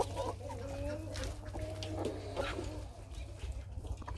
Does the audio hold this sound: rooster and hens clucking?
yes